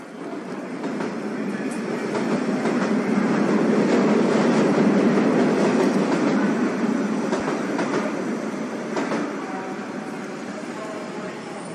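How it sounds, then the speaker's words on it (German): A train rolls into a station, its broad rumble and wheel clatter swelling to a peak mid-clip and easing off, with faint squeals and clicks on top. "Man hört den Zug einfahren."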